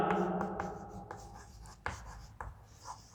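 Pen or chalk writing on a board during a nutrition lecture, with short scratchy strokes and taps in an irregular rhythm, close and fairly quiet, with no talking.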